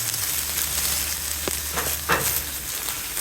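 Chopped white, brown and red onions fry on a 28-inch Blackstone Pro Series griddle during its first cook, with a dense, even sizzle close by and a couple of brief scraping touches, with no voices.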